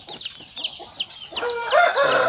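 Yellow chickens with white tails, gathered while being fed, give a run of quick chirpy calls that build into louder, busier clucking and crowing close by.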